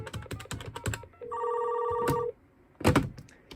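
A telephone on a custom TDM telephone switch rings once with a steady electronic bell tone for about a second, followed by brief clicks and a short burst of noise.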